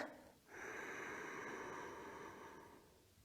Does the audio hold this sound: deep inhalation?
yes